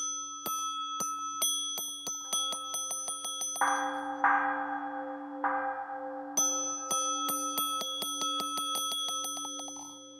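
Temple bells struck during a Buddhist Vesak ceremony celebrating the Buddha's birth, ringing as a dense series of bright, sustained metallic strikes with long overlapping resonance, while a louder clanging burst swells in the middle.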